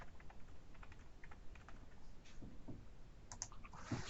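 Keys tapped on a computer keyboard in an irregular run of quiet, close clicks, with a few louder keystrokes near the end.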